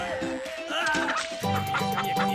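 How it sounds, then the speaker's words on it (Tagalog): A Philippine native chicken clucks and calls near and clearly, in a short run of fowl vocalizations over a dense background with a steady tone running through it. "Philippines native chicken."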